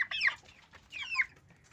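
A rooster and chickens clucking, two short rising squawks close by, quiet in between, with faint background noise.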